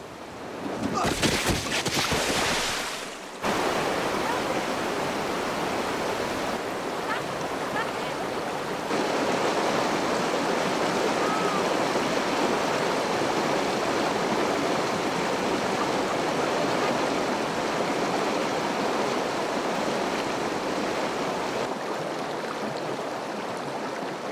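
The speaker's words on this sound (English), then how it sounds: "This river is not on the map." A river flows with a steady, broadband rushing wash of moving water. A brief louder burst of noise comes near the start, then the even flow carries on alone at moderate loudness.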